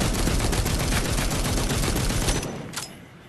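Sustained rapid gunfire from The Walking Dead Onslaught, a zombie shooter, roars as a dense, loud automatic burst for over two seconds, then cuts off, leaving a fading tail and one last faint shot.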